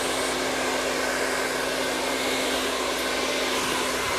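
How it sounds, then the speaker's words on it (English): A blow dryer drying curly hair runs as a steady, loud, close airy roar with a constant motor hum underneath, unbroken throughout with no talking. "How to use the blow dryer properly."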